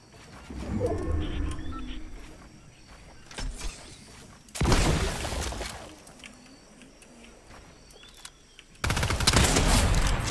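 Sniper rifle shots in the Fortnite video game: loud broadband blasts, with a sharp burst near the middle and another at the end, standing out over busy game noise.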